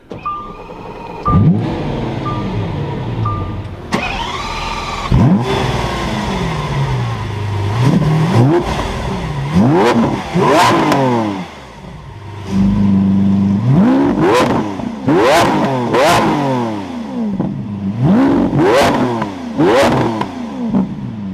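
A Lamborghini Aventador LP700-4 Pirelli Edition starts with a whirring crank and catch, then settles into a loud idle broken by a string of sharp throttle blips that rise and fall, close and alone without talk.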